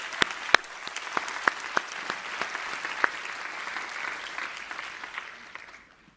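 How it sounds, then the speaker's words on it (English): An audience at the opening plenary of an international maternal and newborn health conference applauds, with sharp individual claps standing out early before the sound thins and fades away at the end. "Can we have a round of applause and celebration for that?"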